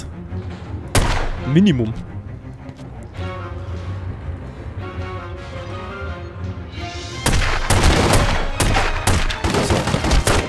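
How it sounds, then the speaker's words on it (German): Sharp, loud gunshot blasts burst out in a cluster near the end of a video game scene, with a single shot earlier, over a steady game soundtrack and a brief spoken word. "Es war mindestens drei Schüsse ins Herz."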